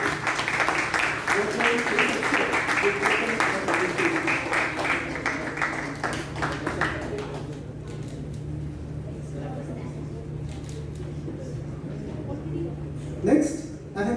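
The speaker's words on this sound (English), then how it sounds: "With a loud round of applause," An audience at a youth leadership programme grand finale gives a loud round of applause for a youth leader, dense clapping for about seven seconds before it dies away into a quiet, humming room.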